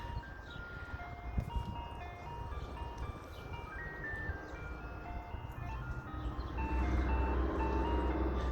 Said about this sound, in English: They hear the little chime from the ice cream truck.